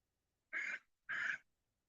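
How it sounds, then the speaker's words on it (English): A bird calling near an old monk priory and cemetery in Scotland, two short hoarse calls about half a second apart, fairly close and clear against a quiet background. "I don't know what type of bird that is."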